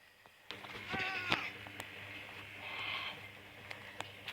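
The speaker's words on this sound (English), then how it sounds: "Let's go check on our baby goats." Baby goats bleat on a homestead farm: a few short, wavering cries in close succession, then another drawn-out bleat a moment later, over a steady low background hum.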